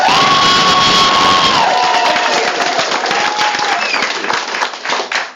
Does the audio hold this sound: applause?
yes